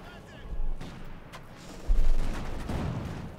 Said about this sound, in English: Constantly being bombarded.